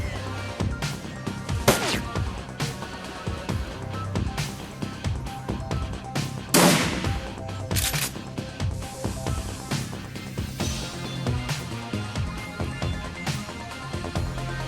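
Aimed gunshots in the Shadowrun Returns tactical video game: sharp shots cracking out at irregular intervals over a steady game soundtrack, with one or two louder bursts standing out.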